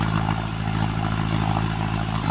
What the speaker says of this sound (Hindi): ये देखिए ट्रैक्टर धीमा धीमा आ गया।